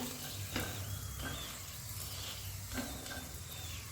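Food roasting in a hot pan for a quick breakfast, with a continuous dense sizzle and crackle close up and occasional stirring scrapes throughout.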